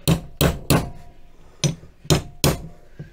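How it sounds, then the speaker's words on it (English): The flat handle of a flogging spanner taps an oil seal into place during an MGB restoration: six sharp, close metallic knocks in an uneven rhythm with short pauses, no talking. "So I'll just give a couple more taps."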